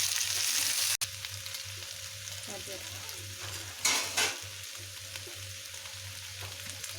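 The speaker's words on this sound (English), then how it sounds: "you have to keep mixing them both till the onions don't soften" Onions and potatoes fry in oil while being stirred for a Spanish omelette, giving a steady low sizzle broken by a sharp clack near the start and a louder scraping stir midway.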